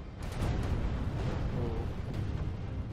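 Units firing on the enemy in Medieval II: Total War make a muffled, continuous rumble of distant gunfire and booming blasts, moderately loud and steady for a few seconds, with no voices.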